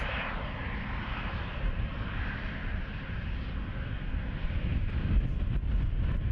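An Embraer jet departs Schiphol bound for Basel, its engines giving a steady, loud broadband roar that holds throughout and swells slightly near the end, with no voices over it.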